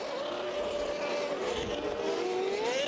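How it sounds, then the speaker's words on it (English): F3000 single-seater race cars circulate at the Oschersleben circuit toward the grid on a dry day, a steady loud engine drone with rising and falling pitch as the cars pass, continuous over the whole stretch. "So cars making their way round towards the grid again"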